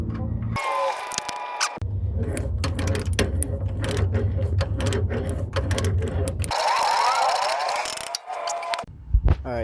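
A bolt on a Jeep Cherokee alternator is tightened during an alternator replacement. Bursts of close mechanical ratcheting and clicking come and go irregularly, with a few pauses.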